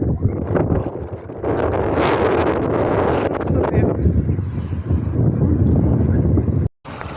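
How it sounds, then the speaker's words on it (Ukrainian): Strong wind buffets the microphone in loud, rumbling gusts, broken by a short silence near the end. "Ну, вже якийсь вітер таки знявся."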